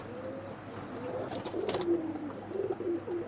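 Pigeons for sale, a pair of high-flying birds, cooing in low, rolling phrases that swell and fade, close by and fairly soft, with a brief rustle of movement partway through.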